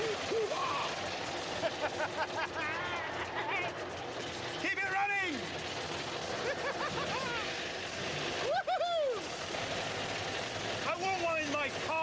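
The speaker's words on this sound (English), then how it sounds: "The mighty Meteor engine has roared and the tank is beginning to come alive." The Meteor engine of a Centurion tank runs with a low, rough continuous rumble, and voices talk intermittently over the steady mechanical drone.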